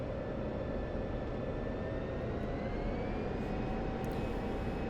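An F-16CM fighter jet in DCS rolls onto the runway, its engine giving a steady, loud, droning roar with a faint rising whine and no voices.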